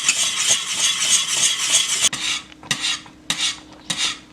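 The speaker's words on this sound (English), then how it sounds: "you do have to watch it and constantly stir until it is thick" Cornmeal mush thickens in a pot while a spoon stirs it constantly, a rhythmic rasping scrape against the pot, steady at first, then breaking into separate strokes. Close and fairly loud, with no talking.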